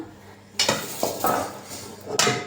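Metal kitchenware clanks and clinks a few times as a strainer of drained lentils is set down onto a metal pot, sharp contacts spaced out against quiet room noise.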